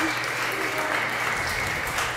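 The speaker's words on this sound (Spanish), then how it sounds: "Un aplauso para Lady Ducha, señoras y señores." A studio audience at a comedy talk show breaks into dense, continuous applause for a guest, a steady wash of clapping that stays even throughout the brief moment.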